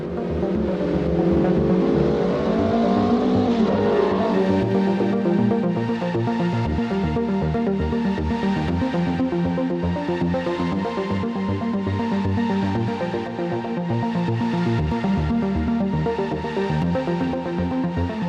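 A race car pulls out of the garage, its engine loud and steady at close range, with a rising rev early on that settles into a sustained drone.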